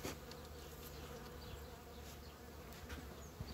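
A steady, faint buzzing of many honeybees feeding, continuous and close, with a few soft rustles and taps over it.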